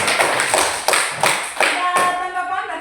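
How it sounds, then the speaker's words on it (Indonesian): A small classroom group of students claps for a fellow student group after a presentation, a handful of distinct, uneven hand claps that fade out while a faint voice starts under them. "tepuk tangan untuk kelompok 4"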